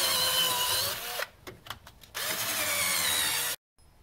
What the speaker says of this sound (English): we're just gonna take a drill and we're gonna continually go through the bushing